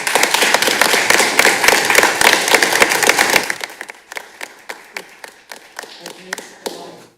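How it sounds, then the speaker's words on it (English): An audience at a city council meeting claps for graduates in a dense burst of applause that thins after a few seconds to scattered, separate claps. "Could we have a round of applause for our graduates?"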